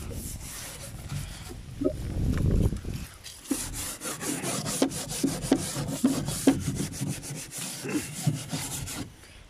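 A brush scrubs lye stripper over old wooden furniture, giving close, steady rasping strokes with repeated scratchy bursts.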